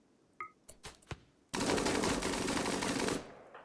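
A few scattered single shots open, then a minigun turret fired by colonists in the video game Rimworld erupts into a loud, continuous rattling burst lasting about a second and a half before cutting off.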